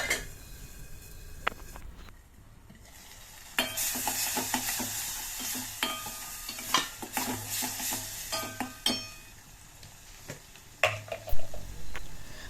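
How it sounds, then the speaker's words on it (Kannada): Tomato and onion fry in a pan over a low flame, a steady sizzle broken by repeated scraping stirs and clinks of a spoon against the pan, close and clear with no talking. "ಫ್ಲೇಮ್ನ ಕಮ್ಮಿಯಲ್ಲಿ ಇಟ್ಕೊಂಡು ಈ ಥರ ಫ್ರೈ ಮಾಡಿದ್ರೆ ಚೆನ್ನಾಗಿರುತ್ತೆ"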